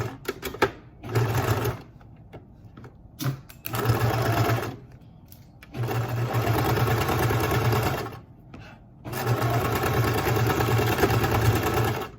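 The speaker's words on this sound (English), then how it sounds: "what we're going to do is sew along the top and the bottom" A sewing machine stitches the top and bottom seams of a structured fabric face mask, running in four loud steady bursts separated by short pauses.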